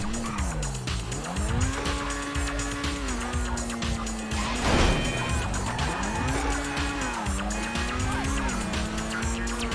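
A Grotti Turismo Omaggio sports car in GTA Online accelerates hard with a loud, continuous engine rising and dropping through gear shifts, mixed with tire squeal and skidding.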